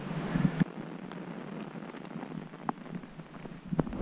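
Steady rain patters down with scattered distinct drops ticking close by, over a soft wind-like hiss, in the mountains at Dalat, Vietnam.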